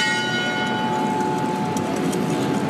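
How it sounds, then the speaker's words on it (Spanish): The clock bell of the San Francisco church in Bogotá rings with a sustained, resonant hum over constant city noise. "Volver a escuchar la campana del reloj"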